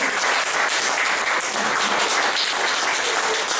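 A church congregation applauds together, a dense, steady wash of clapping that fills the whole stretch at close range, with no pauses and no voices rising above it.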